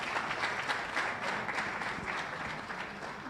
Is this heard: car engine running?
no